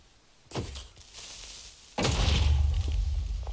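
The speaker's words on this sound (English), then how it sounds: "That's actually one of the most epic explosions in Minecraft I've ever seen." A TNT explosion in the video game Minecraft, with a sharp blast followed by a louder booming burst and rumbling debris, loud and close with no talk.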